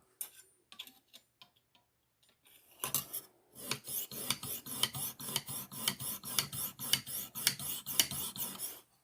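A Rough Ryder knife is sharpened on a Lansky guided sharpening system. A few faint scrapes come first, then a steady run of rhythmic rasping strokes, close and even, with no talking.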